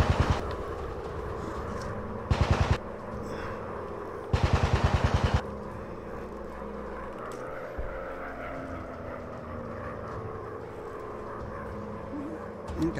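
In a WW1 fighter-plane VR game, two short bursts of rapid machine-gun fire crackle loudly over the continuous roar of the aircraft engine.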